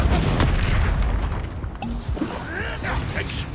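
Explosive Expulso spell blasts boom during Hogwarts Legacy combat, a heavy burst followed by crackling debris and lighter pops.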